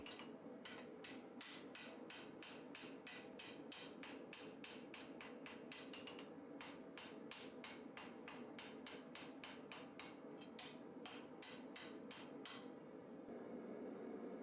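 Rapid, steady hammer blows ring on steel at an anvil's edge while forging a katana blade during the sunobe stage, a long unbroken series of evenly spaced strikes with a brief pause midway, loud and close with no talking.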